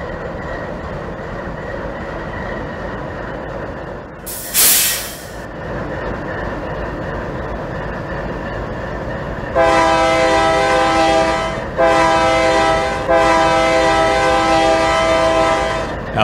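A train in Farming Simulator 22 starts up with a steady rumbling engine drone, a brief hiss burst, then a loud multi-tone horn sounding in three blasts.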